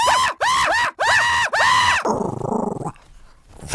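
A dog barks and yelps loudly at someone outside, four rapid, close, high-pitched barks followed by a lower growling whine that fades.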